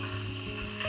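Beef searing in a pot for a Goan pot roast gives a steady close sizzle and hiss, with a faint stir or scrape near the end.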